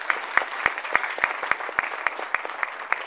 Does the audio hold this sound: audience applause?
yes